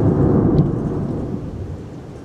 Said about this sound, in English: you can probably hear all the thunder and lightning that's going on right now.